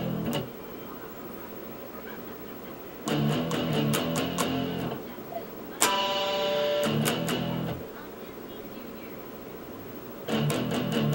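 Electric guitar plays a verse: bursts of muted, percussive dead-note strums alternating with chiming harmonics, separated by short pauses, close and moderately loud.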